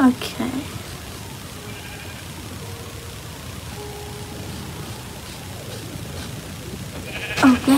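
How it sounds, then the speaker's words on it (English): Sheep in the Minecraft video game bleat at the start and again near the end, short sharp calls over quiet in-game ambience. "Yes, another sheep."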